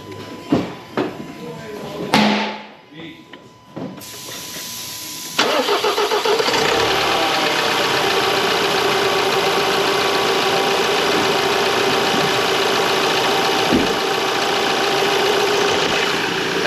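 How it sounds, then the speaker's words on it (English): A 2017 Ford Transit 2.0 EcoBlue diesel van cranks briefly in a workshop and fires up loudly, then settles into a steady, even idle, with a little talk at the start. "get on the key and give it a big start really."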